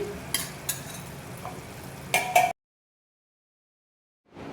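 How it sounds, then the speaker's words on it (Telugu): A ladle stirring curd into chicken sherva in a pot, a few soft scraping and clinking strokes near the start and middle, then silence. "పెరుగు వేసుకొని ఇలా గంటితో బాగా మిక్స్ చేసుకోవాలండి"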